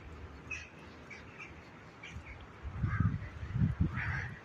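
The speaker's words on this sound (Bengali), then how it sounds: "এখানে কিছু হাঁস রয়েছে" Ducks honk and quack beside a lake under falling rain, their calls fairly distant and intermittent, with a louder cluster of calls toward the end over the soft wash of rain.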